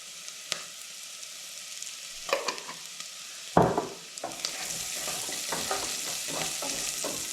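Brown mustard seeds, about a teaspoon, sizzle and crackle in a hot frying pan while a soup of Brussels sprouts is cooked, with a burst of frying as they hit the oil and a steady close hiss.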